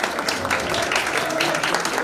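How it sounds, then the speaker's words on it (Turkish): An audience at a Malatya stuffed-kibbeh cooking contest awards ceremony applauds a placed contestant, a dense, steady wash of many hands clapping close and continuous throughout. "Aynur Hanım'ı şöyle güçlü alkışlarla alalım"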